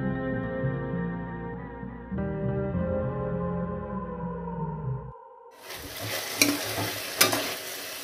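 Ivy gourd and tomato cooking in a pan, stirred now and then, give a steady soft sizzle with scraping stir sounds, and a louder clattering burst of stirring comes in the second half.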